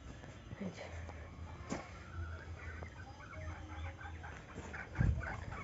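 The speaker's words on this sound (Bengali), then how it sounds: "মুরগিগুলো কি করছে দেখেছো" Domestic chickens clucking around a rural home yard, soft scattered calls over a low background hum, with a louder burst near the end.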